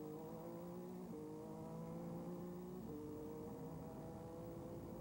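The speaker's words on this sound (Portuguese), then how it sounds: "você mais uma vez sentindo a saúde do motor Buick V6 do Indy Lights" Buick V6 engine of a 1996 Indy Lights race car at Long Beach, a steady high-pitched drone whose pitch steps up with gear changes, heard from a distance.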